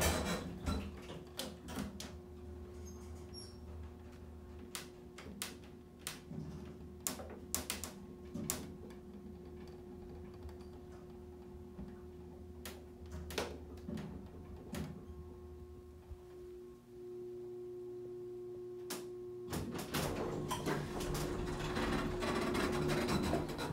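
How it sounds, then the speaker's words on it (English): Vintage U.S. hydraulic elevator running in Santa Monica, California: a steady low mechanical hum under repeated sharp clicks and clunks of relays and door mechanisms, with a brief drop in the hum before it resumes louder near the end. "Vintage US elevator."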